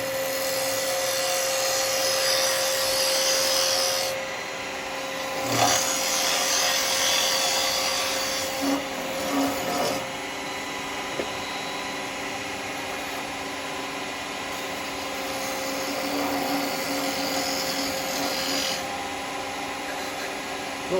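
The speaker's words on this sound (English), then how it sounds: "I've just got my little tenon tool here. Just give me the dovetail." Wood spinning on a lathe while a small tenon tool cuts a dovetail tenon for a ring box, a continuous whirring hum with intermittent scraping and rasping bursts from the cutting edge, fairly close and steady.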